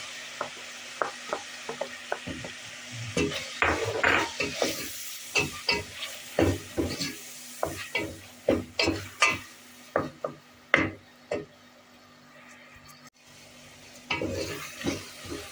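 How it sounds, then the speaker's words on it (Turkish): Onions and meat sauté together in oil in a pot, with sharp sizzling bursts as a utensil stirs them in repeated strokes, close and alone. "Etlerimiz de kavruldu. Şimdi soğanını ekliyoruz."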